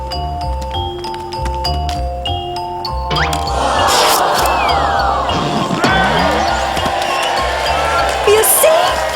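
A crowd cheering at a show, a murmuring, clapping crowd that swells in after a few seconds of bright chiming music and carries on loudly, with scattered whoops and voices.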